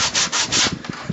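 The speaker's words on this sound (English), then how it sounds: "Grab your sandpaper." Sandpaper rubbed briskly over a wooden paracord jig makes close, loud rasping strokes, three or four quick back-and-forth passes within about a second.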